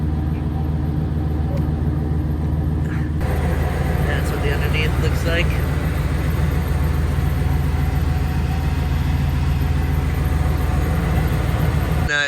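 A car engine idles loudly and steadily through a Flowmaster exhaust, giving a deep, continuous rumble while someone talks nearby over it.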